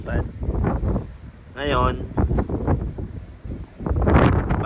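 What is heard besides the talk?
strong wind at the seaside while fishing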